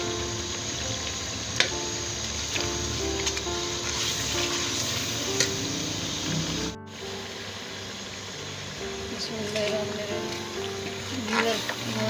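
Garam masala, cumin, carom seeds, fenugreek and fennel roasting in a hot pan for an aloo anday gravy, giving a continuous sizzle with occasional stirring clicks, a brief cut partway through, and a voice talking over it at times.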